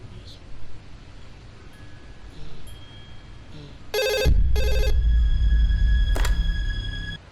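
A phone rings in short repeated electronic bursts, loud and close, followed by a sharper ring tone, with a low rumble and faint background noise between rings.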